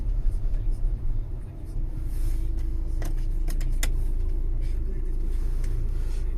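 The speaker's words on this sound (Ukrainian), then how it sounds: "Чуть-чуть додати газу, а треба знімати ручник. От їдемо" A 2014 VW Passat Alltrack with a 130 kW engine releases its handbrake and pulls away, its low engine rumble rising and then holding steady from inside the cabin, with a few light clicks and someone talking over it.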